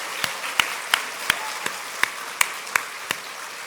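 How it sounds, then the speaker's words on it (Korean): A church congregation applauds at an Easter Sunday service: a spaced series of about ten sharp claps at a steady rhythm, fairly faint over a quiet room, with no talking. "우리 하나님께 영광의 박수 들려드립니다."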